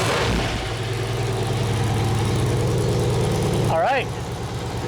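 A V8-swapped Toyota Celica GT-S idles with a low, lumpy rumble, then gets a quick throttle blip near the end before settling, with people talking over it.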